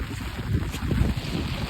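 Strong gusting wind buffets the microphone outdoors beside an overflowing, flooded village pond, a steady loud roar and rumble with no speech.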